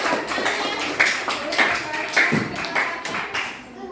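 Small group of teachers in a coaching practice session clapping their hands, a loose scattering of claps with a few sharper accents, fading out near the end.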